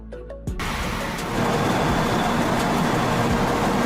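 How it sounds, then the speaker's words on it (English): High-speed bullet train rushing past, a sudden onset followed by a dense, loud, continuous roar of wind and rail noise. "A high-speed train, particularly common in Japan, known for its streamlined design and ability to travel at very high"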